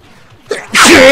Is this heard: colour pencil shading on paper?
no